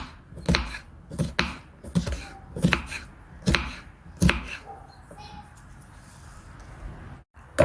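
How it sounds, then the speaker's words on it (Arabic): A knife chops bell pepper into small pieces on a cutting board while making a chickpea corn salad, giving a run of sharp, close chopping strokes in an uneven rhythm, then a quieter pause with faint background sounds. "خلصنا تقطيع الفليفلة"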